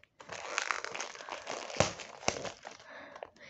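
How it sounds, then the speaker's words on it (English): Paper and nylon packaging torn and crinkled open while unboxing a Fragrance World perfume, a close, busy run of crackly rustling with a couple of sharper rips. "I actually like tearing into these papers, this nylon."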